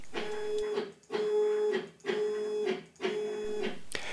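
A CNC machine cutting guitar fret slots moves its axes to the start position: four even whirring motor runs, each about three quarters of a second long with short pauses between them, close and moderately quiet, with no talking.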